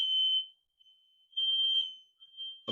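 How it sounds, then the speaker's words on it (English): A high-pitched smoke alarm tone sounds in two sustained bursts with a short gap, followed by a brief low rustle at the end. "I'm going to try and fan the smoke alarms."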